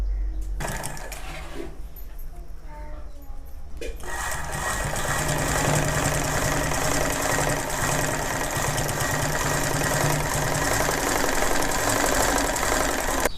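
A sewing machine stitches cloth for an elbow sleeve, starting quietly with faint handling noise before the motor kicks in around four seconds into a loud, steady, rapid needle clatter that runs on close up.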